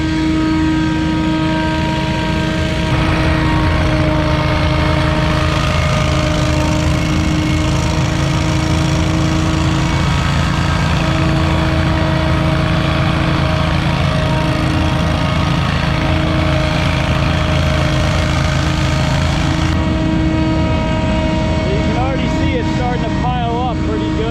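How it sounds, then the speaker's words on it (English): A big leaf blower clears open lawn during a spring yard cleanup, a loud steady engine drone with a constant whine running nearly the whole time, dropping off briefly near the end. "he can just go back and forth with the big blower"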